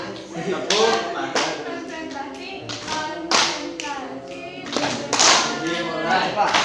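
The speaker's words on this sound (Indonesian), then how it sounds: "Tepuk tangan." A class of children clap their hands in a rhythmic chant-like pattern, repeated bursts of loud group claps with voices calling out between them.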